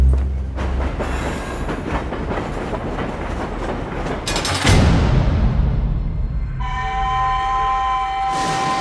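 The Hogwarts Express steam train from the Harry Potter films rumbles and clatters along the rails, then brakes with a rising metallic squeal and slows to a hissing, tonal stop.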